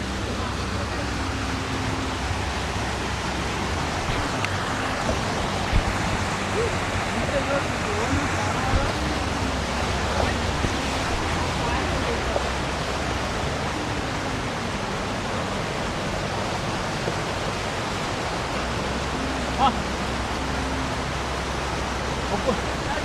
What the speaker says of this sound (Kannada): ಹೆವಿ ಮಳೆ ಬರ್ತಾನೆ.